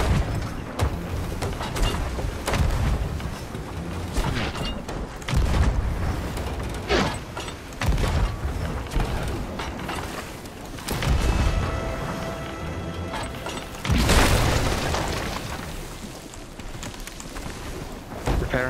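Enemy ship cannons firing in Sea of Thieves, repeated heavy booms and crashes arriving every few seconds against the creak and clatter of a wooden ship, fairly close and loud.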